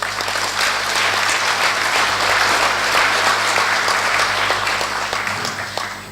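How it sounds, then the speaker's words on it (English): A conference audience at a closing session gives sustained applause for the meeting staff, a dense, loud wash of many hands clapping that holds steady and then slightly tapers near the end. "a big round of applause."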